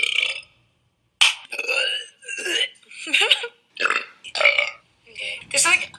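A girl lets out a string of drawn-out, voiced burps, one after another in a steady rhythm, loud and up close.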